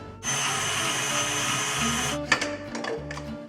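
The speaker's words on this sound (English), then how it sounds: "all the milk and the yeast, and we'll mix that in the mixer." Electric stand mixer running, mixing milk and yeast into stollen dough, a loud, steady motor whir with a constant hum that shifts pitch partway through, then a few clunks and rattles as it continues.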